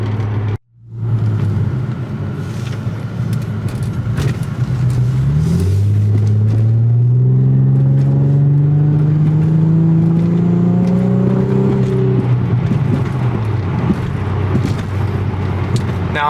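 A car on Fortune Auto coilovers during a driveline vibration test drive, engine revving up in a steady rising drone with road rumble, after a brief dropout near the start.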